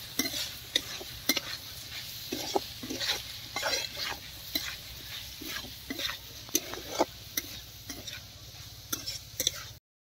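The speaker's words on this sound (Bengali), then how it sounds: "দিয়ে একবার ভালো করে নেড়ে নেবো।" Beef mince is stirred in a pan with onion and chopped green chillies, giving repeated quick scraping strokes over a soft steady sizzle, close and moderate, with no voices.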